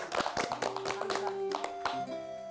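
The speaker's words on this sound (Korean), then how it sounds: "박수 한번 쳐야지 또 이럴 때." A small group claps briefly indoors after a tearful reading by elderly students, the scattered claps mixing with a sustained tonal sound and some voices.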